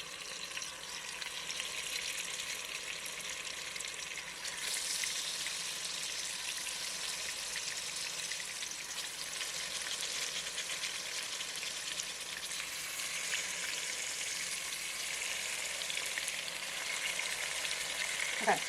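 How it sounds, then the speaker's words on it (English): Oxtail meat and purple onions browning in a hot pan give off a steady, dense sizzle and crackle that holds for the whole stretch with no talking, close and even in level. "you really want to brown the meat, just the meat, as much as you can"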